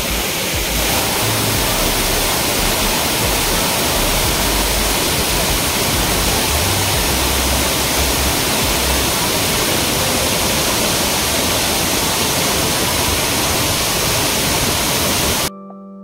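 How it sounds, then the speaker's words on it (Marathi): Savdav waterfall in Konkan roars as a dense, loud, continuous rush of falling water, steady and close, with no voices, cutting off abruptly at the very end. "धबधब्याखाली दाखवते त्यांना."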